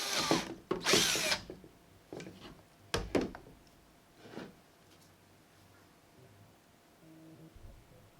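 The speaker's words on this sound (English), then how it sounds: "to make sure that I could drill a hole into it" A power drill bores a hole into a light, hollow craft skull for a D&D lich prop, in two loud whirring bursts near the start, then a sharp knock and a few softer clicks and handling sounds.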